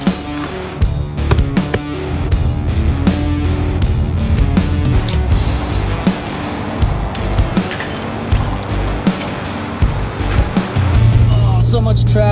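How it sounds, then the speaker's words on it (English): Steady, loud road traffic on a Sunday evening, with continuous engine and tire rumble from passing vehicles and a few voices mixed in throughout. "So much traffic on a Sunday evening."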